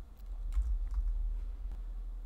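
Typing on a computer keyboard, with a run of soft, close key taps over a low steady background hum and no speech.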